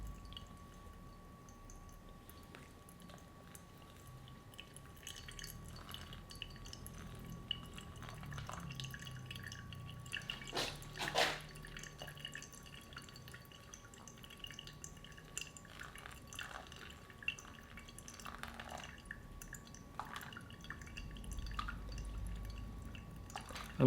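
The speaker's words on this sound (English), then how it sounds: "we're using Hario switches, but the switches are open, so everything is just drawing down immediately" Water drains from pour-over coffee through an open Hario Switch brewer into a vessel below, with faint sparse drips and occasional soft clinks in a quiet room.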